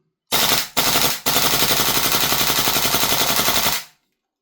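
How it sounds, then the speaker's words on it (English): Tokyo Marui AKM airsoft gun firing full auto, two short bursts then a longer sustained burst at a moderate, even rate of fire, loud and close. "There's something very AK-ish about that rate of fire. It's like not too fast, not too slow."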